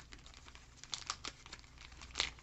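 Pokémon trading cards and booster packs being shuffled by hand, soft papery crinkles and light clicking taps, quiet and close, in an irregular stream with a few sharper snaps.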